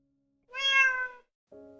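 A cat meows loudly in an audiobook: one long, clear, drawn-out meow, then a shorter lower meow starting after a brief pause, with no talking.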